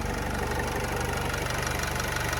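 A 2014 Renault Trafic van's 2.0-litre 115 hp diesel engine idles steadily up close, a low rhythmic chugging with a faint knocking pulse, unchanging and with no voices.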